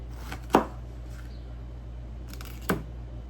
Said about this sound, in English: I'm going to cut probably 2 jalapenos, taking the seeds out.